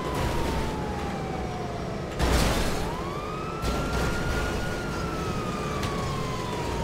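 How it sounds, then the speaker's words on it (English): A police car siren from a video game, on the Buford T. Justice Gauntlet Interceptor, wails in long rising and falling sweeps over a constant engine drone, cut by a brief loud burst near the middle. "it is the Buford T Justice police car"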